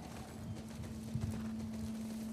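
Horse hooves clip-clop in The Last of Us Part II, a steady run of soft hoofbeats over a constant low hum of ambient game sound.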